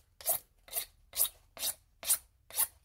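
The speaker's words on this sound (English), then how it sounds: "All I'm doing for that is using a metal ruler, dragging it along." A metal ruler drags along rough edges of a DIY injector flow meter build to deburr them, making six evenly spaced raspy scraping strokes, close and fairly quiet, with no talking.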